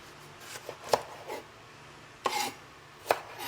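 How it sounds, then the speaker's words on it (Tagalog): A knife cuts tomatoes into small pieces on a board for a no-bake milkfish dish, giving a handful of sparse, crisp chopping strikes up close in a quiet kitchen. "Hihiwain ko lang to ng maliliit."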